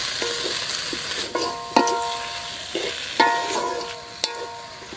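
Taro leaves frying in oil in a pan, with a steady sizzling hiss broken by several sharp scrapes and clinks of a stirring utensil against the pan.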